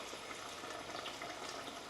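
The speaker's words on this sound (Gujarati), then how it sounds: "તો ચાલો હવે તેમાં પાણી નાખી દઈએ" Soft, steady splashing of water poured into a pot of cooking gravy on a gas stove, faint and continuous, with no voices.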